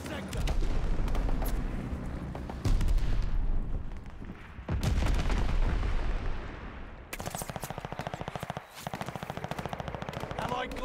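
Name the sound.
bombing run explosions in Call of Duty: Vanguard video game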